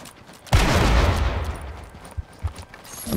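Gunfire in the video game Fortnite opens with a sudden loud blast and settles into a sustained, rumbling volley, with a few sharper follow-up shots near the end.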